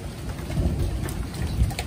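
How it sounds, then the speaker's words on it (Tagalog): Hail falls together with rain in a storm, a close, steady rattle of hard hits with heavier thumps here and there, and no voices. "Hala, may hail! Oh my goodness! May hail nga!"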